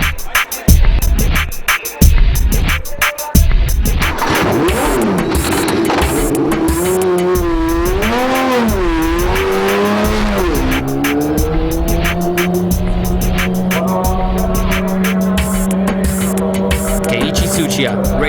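A race car on soft compound tires lapping a track, loud engine revving up and down through gears with tire squeal and skidding, close and continuous throughout.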